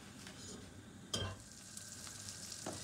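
Butter heating in a saucepan to start a roux for a quick fish gratin gives a soft, steady low sizzle, with a sharp clink of a utensil against the pan and a few lighter scrapes.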